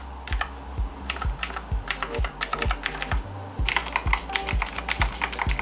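Individual key presses on a Razer Overwatch mechanical keyboard, a steady series of soft, close clicks at an uneven typing rhythm, with no talking.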